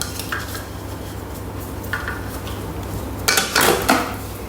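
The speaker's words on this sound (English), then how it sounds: "So we put the Varoma dish in position" A Thermomix Varoma steaming dish is set into position, giving a few light plastic knocks and clatters, then a louder cluster of clunks near the end, close by over a low steady hum.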